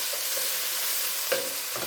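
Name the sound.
stirring onions frying in a pot for chicken curry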